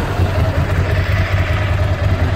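A Ducati ST2 motorcycle engine idles just after starting, a close, loud, steady throb with a regular low pulsing beat and some mechanical clatter.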